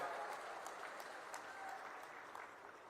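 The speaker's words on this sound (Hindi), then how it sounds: "एक बार जोरदार तालियों के साथ उनका स्वागत और अभिनंदन करें।" A crowd at a memorial gathering in Nimbahera applauds to welcome Amit Shah, producing a faint, continuous roar of clapping heard from a distance, steady throughout with no voices over it.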